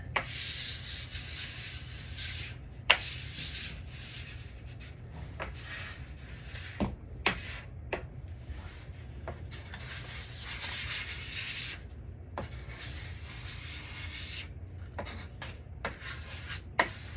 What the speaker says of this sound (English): you just keep scraping until you don't get any more